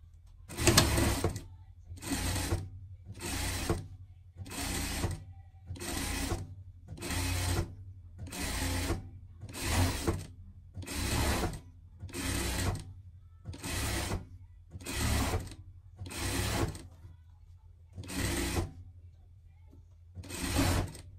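A sewing machine stitches the hem of a skirt in regular bursts, each run of rapid needle clatter lasting about a second with brief pauses between, repeated around a dozen times, close and fairly quiet.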